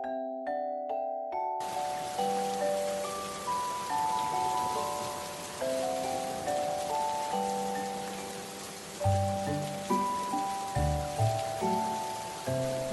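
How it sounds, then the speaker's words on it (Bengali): Heavy rain in a Bengali cartoon, a dense steady hiss of falling rain over soft musical tones, following a few plucked notes at the start, with no speech. "যেভাবে বৃষ্টি শুরু হয়েছে তাতে মনে হচ্ছে না এত সহজে বৃষ্টি থামবে"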